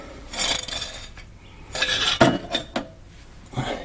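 Metal clanks and rattles from a large oil drain pan being handled under a 2018 Ford Edge Sport with the 2.7L EcoBoost V6, several loud scraping and clinking bursts spread unevenly, with no talking.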